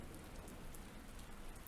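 Soft, steady rainfall pattering evenly on surfaces, faint and distant, forming a calm, continuous ambience with no voices.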